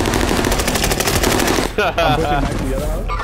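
Sustained, rapid light machine gun fire in a video game, loud and continuous for over a second before breaking into scattered bursts and game effects, with players talking over it.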